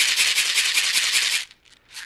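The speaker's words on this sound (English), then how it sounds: "it has the sound of the beads" A shekere, a gourd wrapped in a net of beads, gives a dense hissing rattle in quick pulses for over a second, then a few softer shakes after a pause, close and alone.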